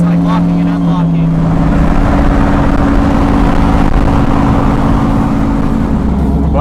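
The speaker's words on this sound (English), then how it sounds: "Gonna pull her down into third so that way the torque converter quits like locking and unlocking." A Fox body car's engine drones loud and steady from inside the cabin after a downshift into third gear, with a sustained low hum, a pitch change early on, and road noise underneath.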